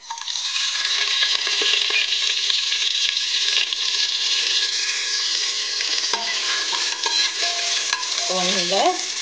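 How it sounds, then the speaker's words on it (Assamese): Whole cumin seeds and two bay leaves sizzle loudly in hot oil in a pressure cooker, a dense crackling hiss with scattered pops and a few metallic scrapes toward the end. "তেল গৰম হৈ গৈছে। তেলতে মই কেইটামান গোটা জিৰা আৰু 2টা তেজপাত দি দিছোঁ।"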